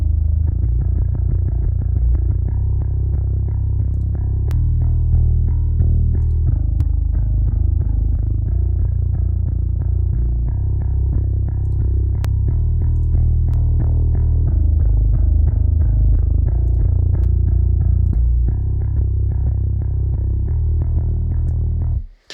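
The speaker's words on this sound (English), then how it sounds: "the auto release there fixes the distortion problem, but I can tell it's just slowing the release down a lot" Bass line run through the El Juan limiter plugin, a beta release, with auto release engaged, playing as a steady, dense, loud low-end groove with faint high clicks and no talking.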